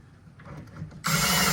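A screw is driven into wood with a few faint ratcheting clicks, then a sudden loud burst of power-tool whirring cuts in and holds to the end.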